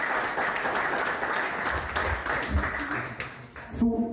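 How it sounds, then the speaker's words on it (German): Applause in a room at a handball press conference, moderate and steady for about four seconds, mixed with some background voices before fading near the end. "Erst einmal großen Applaus trotz des Unentschieden für beide Mannschaften."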